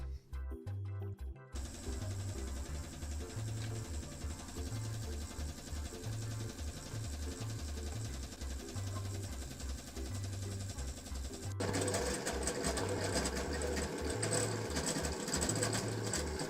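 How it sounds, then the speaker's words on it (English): A 3D printer shaking hard at a high jerk setting, shaking parts loose: steady, rapid mechanical buzzing and rattling from its motors, close and continuous, growing louder toward the end. "this actually did shake some bits loose on the printer"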